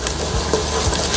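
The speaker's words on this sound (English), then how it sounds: "I'll be adding some chopped ginger and garlic. Fry this well until it's golden brown" Chopped ginger and garlic fry in a pan with a continuous close sizzle and light stirring scrapes, no voices over it.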